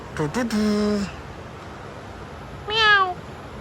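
A pet cat meows twice, close and clear: one drawn-out meow near the start and a shorter one after a pause, over quiet room noise.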